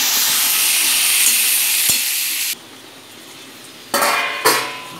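Chicken khara masala paste frying in oil in a pan over low heat, a steady loud sizzle for about half the time, then quieter scraping and stirring before the sizzle flares back up in bursts.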